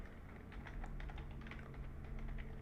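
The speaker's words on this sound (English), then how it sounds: "sorry, just typing" Typing on a computer keyboard while building a simple Python chatbot: a steady run of quick, close key clicks that keeps going for a few seconds over a low background hum, with no one speaking.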